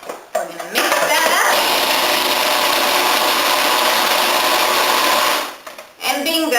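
Cream cheese focaccia topping whipped with an electric mixer: a steady, loud whirring drone lasting about five seconds before it winds down, with brief clatter at the start and end.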